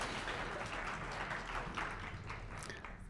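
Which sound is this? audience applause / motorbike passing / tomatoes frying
audience applause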